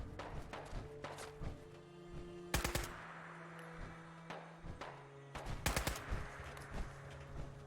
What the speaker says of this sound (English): there was this guy shooting at you